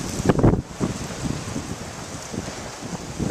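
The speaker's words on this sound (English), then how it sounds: "It's kind of windy." Wind gusting around a bus stop on a cold, wet day with light rain, a broad rushing noise with buffeting bursts against the microphone, strongest early on, then steadier and softer.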